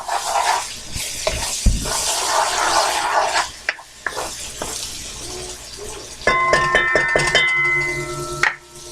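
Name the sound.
vegetables cooking in pan for arroz con pollo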